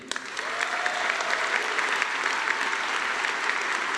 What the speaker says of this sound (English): One last big round of applause for our inductees.